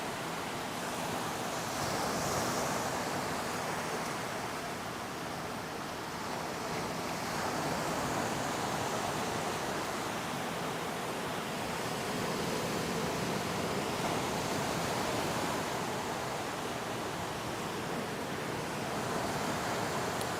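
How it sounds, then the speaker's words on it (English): Ocean waves wash steadily onto a Koh Samet island beach in Thailand, a continuous broad roar of surf with gentle swells in intensity and some wind, no voices present. "Cam wishes the ocean sounds put you to sleep"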